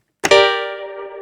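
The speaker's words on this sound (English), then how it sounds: "I can change the size of the reverb. Sorry, from off to cavern." One note from a DX7-style FM synthesizer strikes with a bright attack and rings on as a sustained, harmonically rich tone washed in spacious cavern-size reverb.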